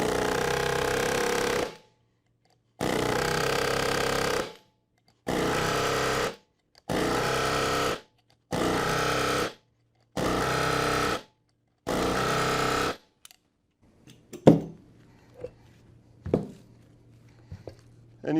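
A Flexco power tool sets BR rivets into a solid plate on a conveyor belt, seven loud, evenly spaced bursts of harsh rattling hammering each lasting about a second, separated by silence, then lighter clicks and clanks of handling.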